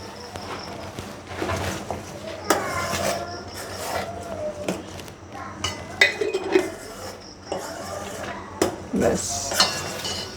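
Ghee is added to steel cut oats payesh in a pot on the stove, with a metal spoon clinking and scraping against the pot in irregular knocks, close and fairly loud, and a voice talking at times.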